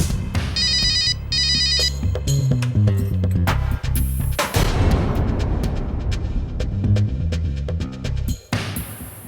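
Telephone ringing: a bright electronic ringtone trills twice close up near the start, then dramatic booming music with heavy hits takes over and drives on loudly to the end.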